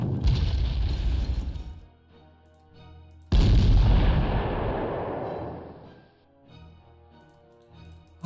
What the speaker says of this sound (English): We can use our artillery over here